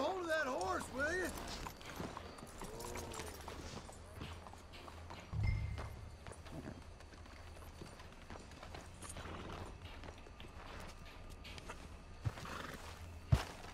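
A horse in the Red Dead Redemption 2 video game gives a sharp whinny, followed by clip-clopping hooves and footsteps while game characters and a commentator talk throughout.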